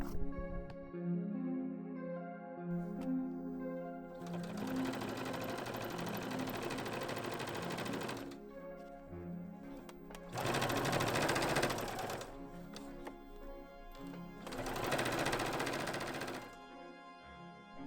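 A sewing machine stitches a seam on a Victorian-style curtain valance, running in three long, loud bursts of rapid mechanical whirring separated by short pauses, with a quieter hum before the first run.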